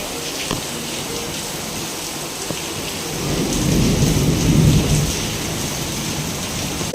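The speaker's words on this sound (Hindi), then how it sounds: "बहुत ज़ोरों की बारिश, बहुत तेज़ से बारिश हो रही है" Heavy rain falls in a steady loud hiss while a deep roll of thunder swells up midway and rumbles on before easing.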